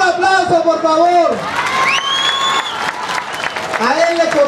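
Loud crowd applause and cheering at a PRD candidate announcement event, with shouting voices and whooping tones rising over the clapping and a close, busy, boisterous mix throughout.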